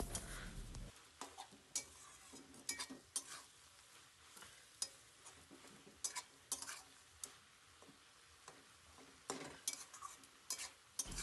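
Kadai saag greens are stirred in a pan, a spoon clacking and scraping against the metal in irregular strokes over a low, soft sizzle, close but quiet, with no voices.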